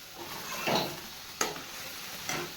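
Eggplant stirred in yogurt in a pan: a low simmering hiss with three distinct utensil scrapes and taps spaced across a short stretch, quiet and close.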